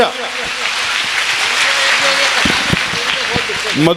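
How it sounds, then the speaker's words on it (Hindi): An audience at a religious discourse on cow service bursts into loud, sustained clapping, with voices and shouts mixed through the applause. "आप सब जो एक बार जोरदार ताली बजाओ"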